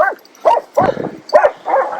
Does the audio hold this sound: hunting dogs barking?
yes